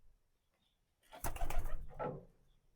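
Pigeons kept at home, let out after rain, give a short burst of cooing or fluttering lasting about a second, close by, with near silence before and after.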